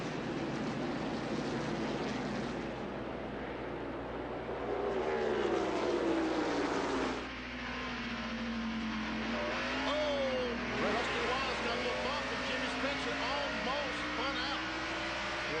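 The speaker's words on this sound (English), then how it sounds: "leaving the field in the control of Ernie Irvan, who slams his foot to the floor and picks up the speed to racing competition" NASCAR stock cars at the 1994 First Union 400 roar around the track, a continuous engine drone rising and falling in pitch as cars pass, with a race commentator talking over it.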